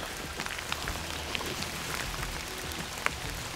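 Rain patters steadily on a surface during Danube flooding, a dense continuous hiss with a few sharper individual drops standing out, close and even, with no voices.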